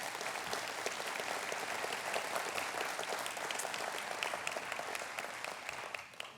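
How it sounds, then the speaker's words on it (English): Audience at a town state-of-the-town event applauding the town council, dense sustained clapping from a sizable crowd that holds steady for several seconds before tapering off at the end. "ladies and gentlemen, please, a nice round of applause for our town council."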